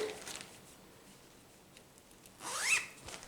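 A quick zipper pull rasps near the end, a short bright scratchy burst after faint ticking and rustling, close by and moderately soft.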